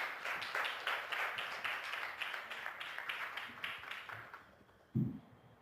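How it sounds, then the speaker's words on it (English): Audience applause for a speaker at a political convention anniversary event, a burst of many hands clapping that fades gradually over several seconds, ending with a single louder thump. "Give him a round of applause."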